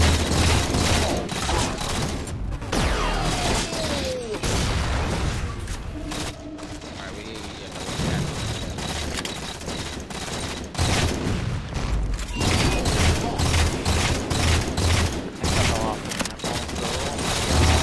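Dense, continuous gunfire fills a Halo 4 match, with repeated bursts and overlapping shots from several weapons sounding loud and near throughout, over a steady busy game backdrop.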